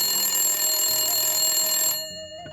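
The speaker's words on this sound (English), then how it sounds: "That's when the phone rang." A loud electronic telephone ring sounds continuously for about two seconds, then cuts off, leaving a quiet room with a faint click.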